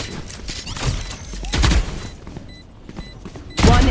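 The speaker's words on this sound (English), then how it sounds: "Swarm grenade out." A swarm grenade in a tactical shooter game goes off as a burst of rapid, booming detonations and thuds, clustered in loud waves with a quieter gap between them and short electronic beeps.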